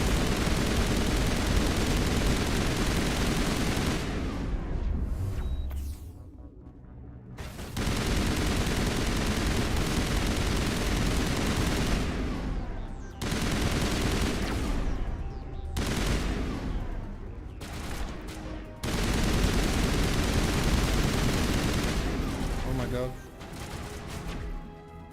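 Gunfire from the video game Mass Effect 1, loud rapid bursts and volleys of shots running almost continuously, broken by a few brief pauses, with game sounds layered over it.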